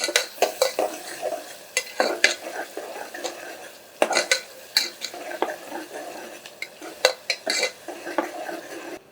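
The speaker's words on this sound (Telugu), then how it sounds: "ఇవన్నీ ఉల్లిపాయలు మరి తొందరగా వేగాలి కాబట్టి" Onions and green chillies fry in a pan for a country chicken curry, heard as repeated scraping stirs and metallic clinks of a spoon against the pan over a soft background sizzle, close and fairly loud throughout.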